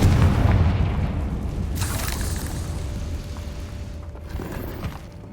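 A Confringo spell detonates in Hogwarts Legacy, setting off a heavy booming explosion up front that rumbles and fades, with a few smaller crackling bursts after it.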